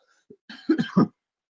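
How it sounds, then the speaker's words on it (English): A few short, close coughs, a small one first and then a couple of harsher coughs in quick succession, with silence after. "Apologies, I have a little cough."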